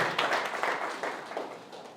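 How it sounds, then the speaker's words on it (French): A crowd at a public address claps loudly in support of the defence and security forces, a dense, steady wash of applause close by that eases off slightly over two seconds. "je voudrais que vous puissiez applaudir très fortement pour encourager nos forces de défense et de sécurité"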